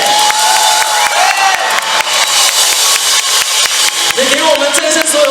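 A concert audience at a Kaohsiung show claps and screams together, cheering loudly and continuously with crisp, rapid hand claps and rising shrieks, while a voice speaks over the noise.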